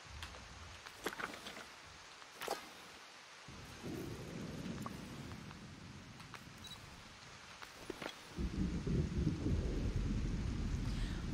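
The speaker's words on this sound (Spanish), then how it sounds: "¿Oís los truenos tremendos?" Thunder rumbles in the video game Dreamlight Valley during a rainstorm: sharp cracks early, then deep rolling booms swelling over steady rain, with a heavier roll near the end.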